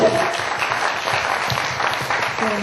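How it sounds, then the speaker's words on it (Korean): A studio audience at a Korean book talk show claps steadily together, a dense, even patter of hands filling the whole moment, close and fairly loud. "박수 한번 드릴까요?"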